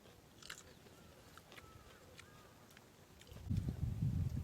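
Someone bites into a sweet and sour peach: a soft crunch and wet chewing build up close to the microphone near the end, after a quiet stretch with faint clicks.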